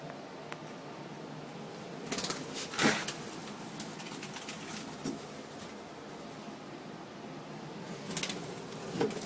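A pigeon or dove loose indoors gives a few brief flaps and sharp bursts scattered through a quiet room, with a low steady hum underneath.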